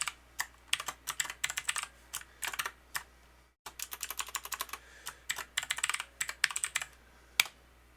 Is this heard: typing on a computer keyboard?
yes